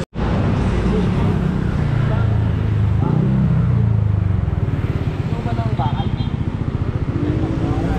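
A motorcycle engine, 185 cc, revs hard at high RPM, a loud, sustained roar with rising and falling pitch close by, while people talk over it outside a street shop.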